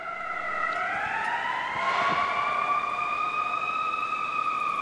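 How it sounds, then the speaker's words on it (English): Emergency vehicle sirens wail past an outdoor mayoral campaign kickoff, rising and holding steady tones that swell loud and sustained over a constant background hum. "We're letting the sirens go by."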